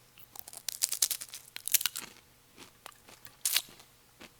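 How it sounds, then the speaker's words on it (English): Crisp, close crunching of a matzah sandwich, several bites in quick succession, then a pause and a final loud crunch, with no talking. "Good crunchy matzah."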